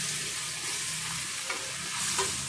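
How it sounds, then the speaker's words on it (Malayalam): Masala-coated anchovies fry on a stove with a dense, even sizzling hiss, close and steady, with a faint knock or two of movement in the pan. "അപ്പം മീനും ഫ്രൈ ആക്കാനുള്ളത് അതും അങ്ങ് അടുപ്പിലാക്കി."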